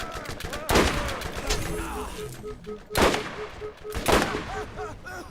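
A weapon fires in the Borderlands video game, with three loud, sharp gunshot bursts and ringing tails over ongoing game sound effects.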